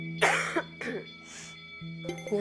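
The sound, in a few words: woman coughing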